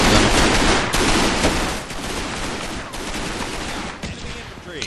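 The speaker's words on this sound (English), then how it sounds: "Or that looks like a machine gun." Sustained gunfire in the Combat Mission Market Garden WWII war game, with a machine gun in the mix: a loud, dense barrage of rapid overlapping shots and sharp cracks that runs unbroken for the whole stretch, easing only slightly partway through.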